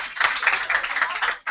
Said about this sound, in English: I think he deserves a round of applause for